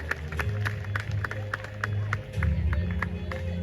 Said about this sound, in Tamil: சத்தமான கரகோஷங்களை வழங்கி என்னுடைய மிகிரங்கவுக்கு எங்களை வாழ்த்துக்களை தெரிவிப்போம்